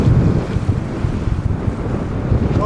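Steady wind rushes across the bow of a small cruise vessel at sea off Baja California, Mexico, roaring loud and continuous with buffeting microphone gusts and low rumbling water underneath.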